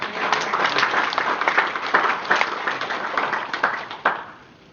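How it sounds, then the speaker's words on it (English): A church congregation applauds on a preacher's call, a dense ragged patter of hand claps filling the room at moderate loudness, with a few sharper claps standing out before the sound quickly tapers off at the end. "Can we give a clap offering to the Lord?"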